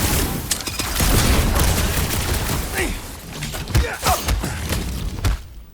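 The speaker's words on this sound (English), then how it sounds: "Just shoot the fucking thing!" Dense bursts of gunfire and crashing impacts in the Guardians of the Galaxy game, loud and close, with thuds and shattering mixed in and voices shouting over the fight.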